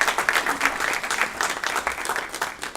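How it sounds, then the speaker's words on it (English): Applause for a speaker at an energy innovation event: a steady, moderately loud wash of clapping from the audience that holds evenly and then starts to thin. "let us give a round of applause for Ms. Campbell"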